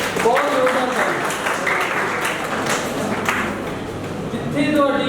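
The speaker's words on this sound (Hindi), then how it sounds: "जोरदार तालियां, बहुत जोरदार तालियां।" Applause from a seated audience at a youth dialogue event, steady dense clapping filling the whole stretch at moderate level, with a voice heard briefly at the start and end.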